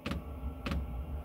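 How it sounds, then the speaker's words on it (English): A fuel pump on a 5 kW diesel heater in a Toyota Hiace camper ticks twice at an even interval, sharp close clicks over a low hum. "There's our pump."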